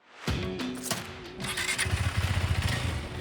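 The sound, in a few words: KTM RC390 motorcycle riding on test track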